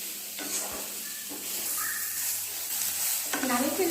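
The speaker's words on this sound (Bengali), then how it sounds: "তো সয়াবিনগুলো ফ্রাই করা হচ্ছে" Soybean chunks frying in a pan for a soya curry give a low, steady sizzle, with intermittent stirring scrapes and a few brief clatters of the spoon against the pan.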